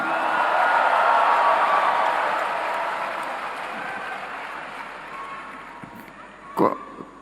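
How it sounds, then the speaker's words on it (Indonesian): Broad, roaring audience applause at a PSI party congress, loudest at the start and slowly fading over several seconds, with a brief sharp knock near the end. "Kok tepuk tangan lebih gemuruh kalau Teddy ini."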